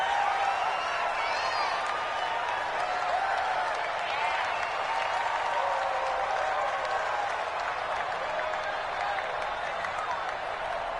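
A stadium crowd in a PS4 football video game roars and applauds continuously, a dense, steady wash of cheering that holds at an even level throughout.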